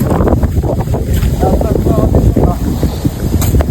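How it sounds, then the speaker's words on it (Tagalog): Steady wind roars and buffets the microphone outdoors while a small Mini V kite is flown high, a constant loud rush with gusty low rumble and a voice speaking briefly over it. "Ang hangin."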